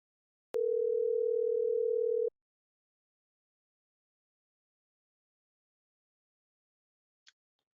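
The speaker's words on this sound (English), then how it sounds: "I'm gonna call my wholesaler here and see if we can get back on his guy" A single steady telephone tone sounds for under two seconds while a call is placed to a wholesaler, then cuts off into near silence, with only a faint click later and no talking.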